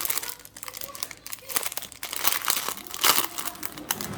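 Packaging for a craft product crinkles and tears open in steady bursts of plastic and paper rustling, loud and close, with a brief child-like voice in the background.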